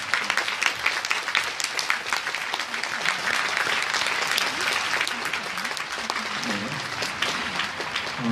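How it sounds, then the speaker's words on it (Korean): A crowd at a Busan social-welfare rally applauds mayoral candidates as they come onto the stage, sustained dense clapping that stays loud and continuous throughout. "예, 박수로 모시겠습니다."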